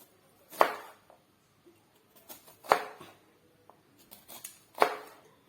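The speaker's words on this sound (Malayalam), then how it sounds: "നമുക്കിതെല്ലാം അരിഞ്ഞെടുക്കാം" A knife cuts through star fruit on a board for pickle, three crisp, distinct chops spaced about two seconds apart, with a few lighter taps between them in a quiet room.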